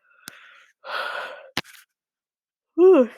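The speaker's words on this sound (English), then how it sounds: "sorry, I got a yawn" A short breathy exhale and murmur, then a drawn-out voiced yawn rising and falling in pitch at the end, close to the listener.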